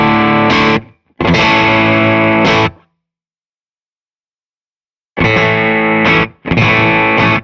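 A Stratocaster electric guitar played through a Will Sledge FX The Veil or Biyang OD-8 overdrive pedal, heard as loud, thick, distorted chord bursts in two pairs separated by a couple of seconds of silence, with no talking.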